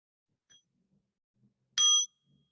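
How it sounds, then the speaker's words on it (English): A great temple bell rings once in a morning meditation session, a single loud, clear strike that rings out briefly over near silence, with faint murmurs before it. "to invite the great bell every morning to sound and help all beings to wake up"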